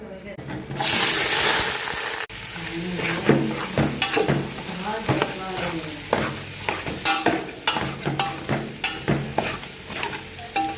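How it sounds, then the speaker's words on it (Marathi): Onion hits hot oil for a gravy at a dhaba kitchen, a loud sizzling burst, then repeated scraping stirs in the pan, close and rhythmic, with a person talking over the frying. "आपण आता कांदा टाकला आहे त्याच्यामध्ये कांदा आपण भाजून घेणार आहोत"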